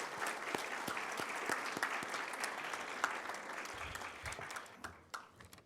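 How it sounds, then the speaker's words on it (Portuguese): An audience at a diploma ceremony for a first class of conciliators and mediators claps steadily in a dense, continuous round of applause that tapers off at the end. "Eu peço uma salva de palmas às nossas caríssimas professoras."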